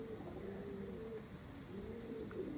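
Young pigeons cooing in low, rolling phrases as they are released to fly among surrounding coconut trees, the soft calls running steadily at moderate distance with no talk.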